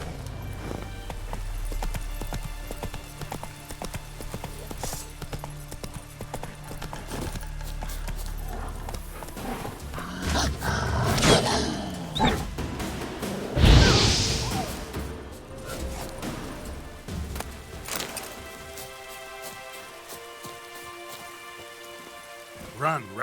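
A horse in The Witcher 3 gallops through rain, steady clip-clop hoofbeats over a constant patter of rainfall, with a louder crash-like surge midway and the sound thinning toward the end.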